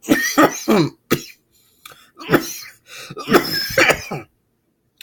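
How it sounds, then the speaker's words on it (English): A series of harsh, close coughs in quick bursts, several in a row with short pauses between, fairly loud and unaccompanied by talk. "I'm still having some coughs."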